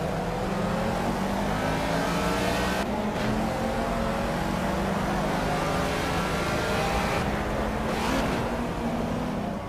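Ford Escort Mark 1 engine in the Project CARS racing game, idling and revving steadily in the pit box at the Catalunya circuit, a continuous loud drone with a slowly shifting pitch, two brief dips in the sound, and no talking.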